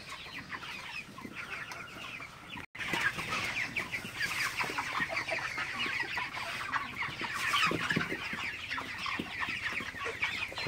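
Broiler chickens in a poultry house with litter flooring cluck and chatter continuously as a busy flock, with overlapping calls from many birds at moderate distance and no talking.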